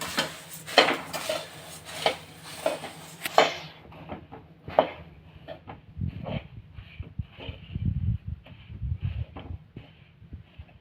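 Avalpori, puffed rice flakes, is stirred in a metal pot with a spoon, giving repeated rhythmic clinks and scrapes that turn into duller, softer mixing thuds partway through. No talking.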